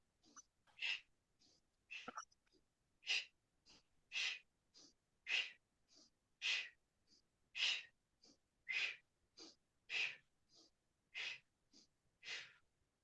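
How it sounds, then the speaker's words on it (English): Bhastrika yoga breathing, forceful rhythmic breaths through the nose: about twenty sharp, close, hissing exhalations and inhalations in a steady pulse, each a short burst separated by brief pauses, with no talk. "we'll start with Bhastrika breath, where we're going up and down with the arms"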